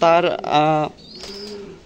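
A pet dove (ghughu) kept among pigeons gives a brief, soft, close coo, heard right after a voice speaks.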